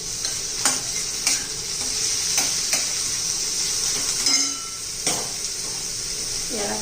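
Tomatoes fry in a hot pan with a steady, bright sizzle. A spoon stirs them in repeated scraping strokes against the pan, close and fairly loud.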